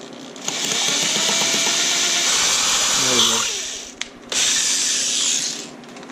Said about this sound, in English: so I'm going to drill it with the bigger one